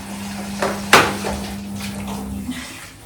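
Tap water running into a sink while dishes are washed, a steady splash with a faint hum, a sharp clatter near the start and lighter knocks of utensils after.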